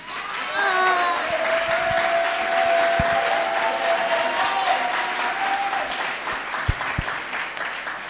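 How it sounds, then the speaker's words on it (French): A French-speaking church congregation applauds and acclaims, with dense clapping and some cheering voices throughout and a few sharp, louder claps standing out near the end. "qui donne des acclamations à notre Seigneur"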